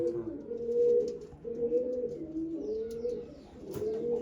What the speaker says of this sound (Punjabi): ਬਹੁਤ ਸੋਹਣੀ ਕਬੂਤਰੀ ਇਹ ਵੀ ਛੱਡ ਦੇ